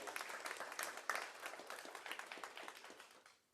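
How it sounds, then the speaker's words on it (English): An audience applauds at an evening event on artificial intelligence and the law: dense, steady clapping from a crowd sustained throughout, fading near the end. "Let's give them a round of applause."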